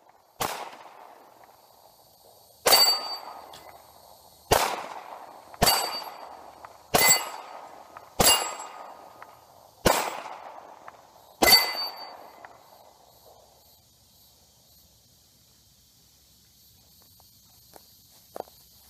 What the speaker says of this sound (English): That was a Glock 19 on those targets.